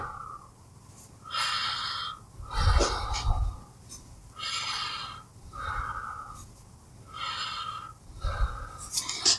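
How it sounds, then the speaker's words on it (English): A patient takes repeated deep breaths during an abdominal examination, slow audible inhalations and exhalations close to the microphone in an even rhythm, with no talking. "Okay, so you take some deep breaths."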